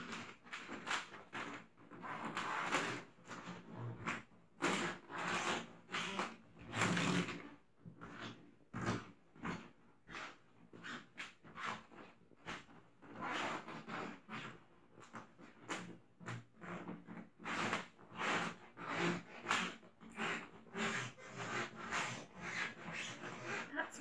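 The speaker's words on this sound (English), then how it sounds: "My floor is crazy squeaky." Squeaky floorboards creak underfoot at home, a long run of close, sharp creaks and groans repeating irregularly as someone walks around indoors, with no talking.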